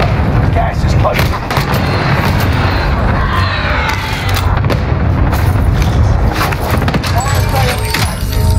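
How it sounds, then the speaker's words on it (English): Booming cluster strike explosions rumble through a Warzone match, dense and loud with sharp gunfire-like cracks layered over a continuous low roar, while voices talk over them. "Cluster strike is active."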